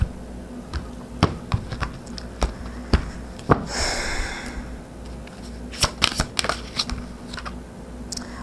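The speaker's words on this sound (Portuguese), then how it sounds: "Fica aí que vamos tirar o oráculo aqui pra ver." Someone shuffles a deck of oracle cards close by, with a scattering of sharp taps and flicks, one longer riffling burst in the middle, then quick clustered snaps. No one speaks.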